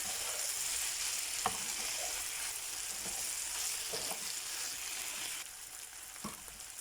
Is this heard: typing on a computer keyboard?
no